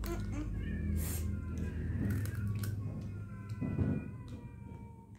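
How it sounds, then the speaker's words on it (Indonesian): Cats fighting nearby, with strained yowls and hissing cries rising and falling in bursts, fairly faint and mixed with background noise and occasional voices. "Kucing berantem."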